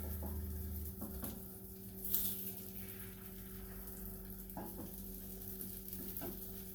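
Omelet eggs cook quietly in a hot pan, with a low continuous sizzle and a steady hum underneath and a few soft scrapes spread through it.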